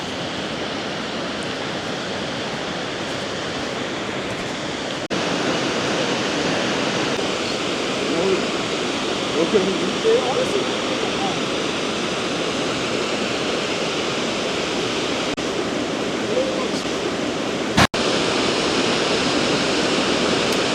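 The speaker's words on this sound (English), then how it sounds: "Oh, you can really hear the water now." Broad, steady rushing of water fills the scene without a break, growing slightly louder partway through, like a nearby stream or small cascade on a December hike in Savage Gulf State Park, Tennessee.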